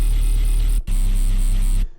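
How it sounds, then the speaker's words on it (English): A squelchy wavetable synth patch with a downward pitch bend, unison voices and a sub layer plays two loud, buzzy sustained notes split by a brief gap, then cuts off. "that's a pretty atrocious sounding wavetable. It's getting its squelch from the bend minus"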